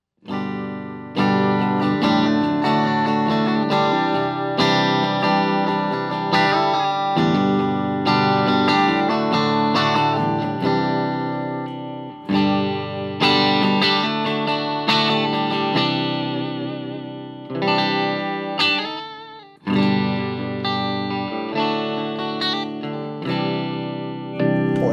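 Distorted electric guitar riffs and sustained chords played directly into an Engl Gig Master 30 amp with no reverb, loud and continuous for the whole stretch with brief pauses between phrases.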